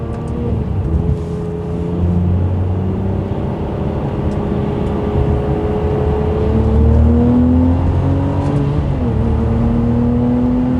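Ferrari 612 Scaglietti V12 accelerating onto a highway on-ramp, heard from inside as a loud, sustained engine drone whose pitch climbs steadily through the gears over about eleven seconds.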